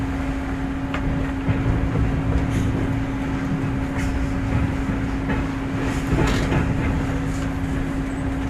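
A VIA Rail Canadian passenger train leaving Jasper station in Alberta gives a steady, loud rumble with a constant droning hum and occasional faint clanks from the rail cars.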